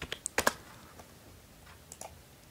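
A quick cluster of close keyboard clicks typing a Windows 11 command, followed by a couple of isolated key taps after a short pause; no voices.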